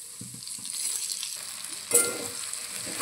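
Okra frying in oil with curry leaves and turmeric, a close, steady crackling sizzle with a brief louder burst as the pieces are stirred.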